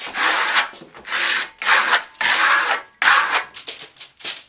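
A plastering trowel pressing Marblestone into Marmorino KS Venetian plaster makes close, repeated rasping scrapes, about eight firm strokes in quick succession separated by short pauses.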